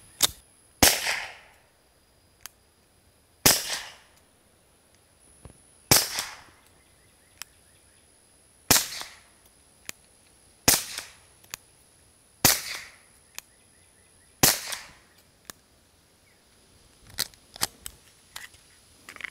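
Sharp suppressed pistol shots from a SIG P365 fitted with a Dead Air Odessa-9 can, firing 158 grain subsonic rounds, ring out as about nine distinct cracks spaced irregularly, each followed by a short decay, with faint clicks between.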